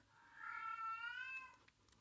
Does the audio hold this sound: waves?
no